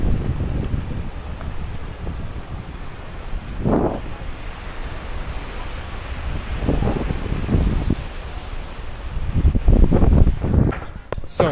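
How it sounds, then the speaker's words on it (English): Wind gusts across the beach at Prison Island, Zanzibar, roaring against the microphone in uneven bursts that swell louder toward the end, with surf washing faintly beneath. "Nice wind."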